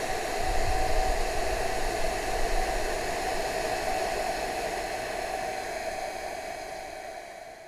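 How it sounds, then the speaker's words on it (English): A hair dryer drying a wet bumblebee blows with a steady, loud whooshing hiss and a constant mid-pitched whine, slowly fading slightly over several seconds. "I'm just going to put the hairdryer on it a wee bit"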